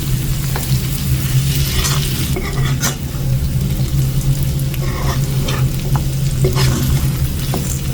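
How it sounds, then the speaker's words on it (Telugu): Chicken with curry leaves sizzling loudly in a pan for a dry fry, with repeated scraping stir strokes and occasional metal clinks over the continuous frying hiss. "దీన్ని కొంచెం మంచిగా కలుపుకొని ఒక 5 minutes మనం మూత పెట్టుకొని ఫ్రై చేసుకున్నాం."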